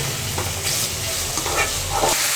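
Chicken being sautéed in oil with ginger garlic paste for a pepper chicken dish, a close, steady sizzle with a few brief stirring scrapes.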